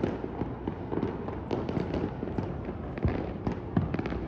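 New Year's Eve fireworks explode over the sea and city of Pattaya, a continuous stream of distant booms and crackling bursts with a few louder pops.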